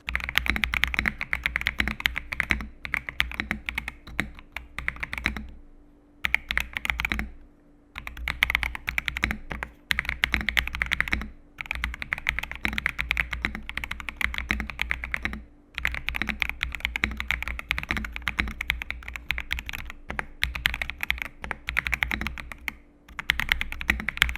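Fast, steady typing on a Tecware Phantom S75 mechanical keyboard, close up, with dense clacking keystrokes broken by a few brief pauses.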